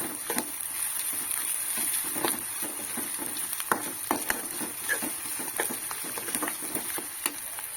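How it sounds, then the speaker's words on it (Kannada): Wild bitter gourd palya frying in a pan, a steady faint sizzle with scattered light crackles and soft stirring taps throughout, no voices. "ಅದನ್ನು ಒಂದು ಸ್ವಲ್ಪ ಫ್ರೈ ಮಾಡ್ತೀನಿ"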